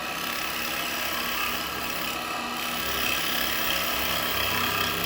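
A wood lathe turning a maple tea light holder, the tool's bevel riding the wood as it cuts and throws off shavings; a steady, continuous whirring hum with a constant cutting hiss, close and unbroken.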